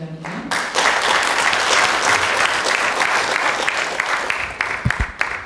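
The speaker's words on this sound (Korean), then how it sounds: "큰 박수로 맞아주시기 바랍니다." A seated audience at a Korean presidential-candidate lecture forum applauds to welcome a speaker, broad steady clapping that swells in quickly after a brief voice and holds strong before thinning out at the end.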